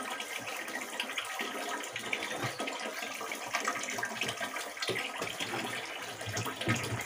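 Water running steadily from a tap or hose into a household water tank being filled, a continuous splashing wash of flow heard alone and fairly close throughout.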